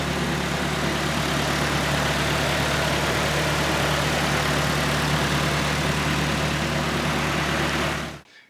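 A Nissan S15's SR20 engine idles steadily nearby, a low, even exhaust rumble that holds constant before cutting off at the end.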